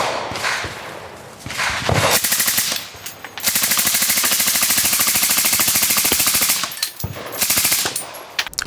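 Full-auto gunfire at an outdoor shooting range event, with rapid bursts of shots, one long sustained burst in the middle and shorter bursts before and after, loud and close.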